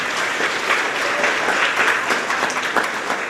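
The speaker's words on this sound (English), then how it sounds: "So give yourself a round of applause." Grade 4 to 6 students clap together at a school awards ceremony, a full, even round of applause from a crowded room that fills a few seconds.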